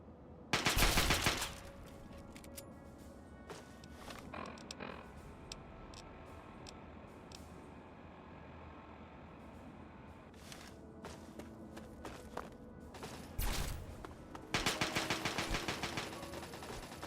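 Gunfire in the post-apocalyptic shooter Fallout 3: loud bursts of rapid automatic shots open and close the stretch, with scattered single cracks and footsteps in between and no talking.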